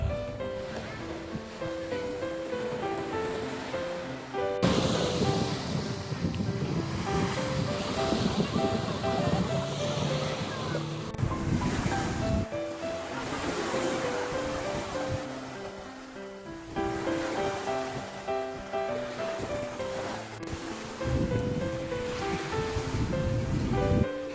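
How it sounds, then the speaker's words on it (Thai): Sea waves beside a seafood restaurant at Hat Chao Samran beach in Phetchaburi, continuous surf washing in with wind noise, mixed with background music and faint voices. "ให้ดูวิวทะเล ที่ติดกับร้าน นั่งเล่นทรายเล่นน้ำกันได้เลย"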